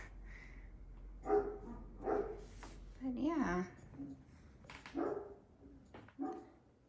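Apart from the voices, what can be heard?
dogs barking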